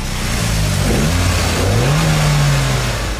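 A tuned 2013 Mitsubishi EVO X with new cams, intercooler, stealthy exhaust and a dialed-in ECU, heard on a road test: a loud, close engine rising in pitch as it revs and accelerates, with a sustained throaty exhaust drone.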